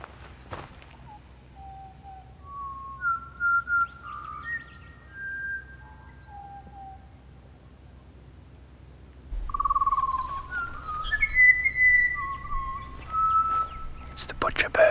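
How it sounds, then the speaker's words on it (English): A butcher bird calls in two bouts of clear, fluting whistled phrases, near and distinct over a quiet outdoor background, with footsteps and faint ambient noise between the calls. "It's the butcher bird."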